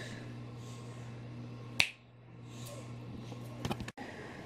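A single sharp finger snap rings out close and clear in a quiet indoor room, followed by a brief hush, with a few faint handling knocks near the end.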